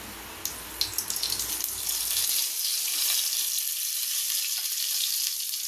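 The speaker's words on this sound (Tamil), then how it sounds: "லைட்டாக வறுத்துக்கணும் கருகு விடக்கூடாது கடுகு தேவையான அளவு" Mustard seeds lightly roasting in hot oil in a pan for a Chettinad sambar, a bright steady sizzle with a few sharp pops early on, alone and fairly close.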